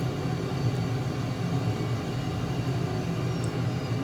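Steady airplane engine drone from Microsoft Flight Simulator during a banking approach to a runway, a constant broadband rumble with no voices over it.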